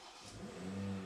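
A 2020 BMW M340i xDrive engine revs up in a short burst, the rising mechanical note starting faint and swelling into a steady, throaty drone, with no talking.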